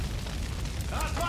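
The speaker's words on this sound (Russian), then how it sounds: "Граната!" A grenade blast in the shooter game Far Cry 5 sounds as a loud, low rumbling boom with crackling debris, while shouted in-game voices overlap near the end.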